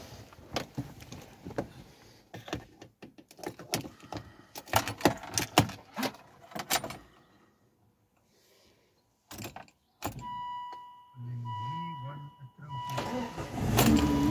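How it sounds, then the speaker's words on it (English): Volvo S40 with the bonnet open, started on the first try: keys jangle and a few clicks, then the engine cranks briefly and catches, settling into a steady, close idle. "Let's start the car."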